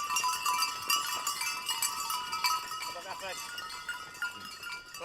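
Goats on a drought-hit farm in Brazil, with scattered bleats and clanking bells over a busy, bright backdrop of bird and insect-like chatter; someone speaks faintly at times.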